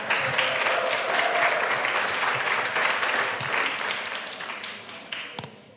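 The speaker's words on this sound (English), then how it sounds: "Round of applause for Kelly, Reedy," A roomful of guests at a charity cocktail event claps for co-directors, a dense burst of applause that gradually thins out, ending with a few scattered individual claps.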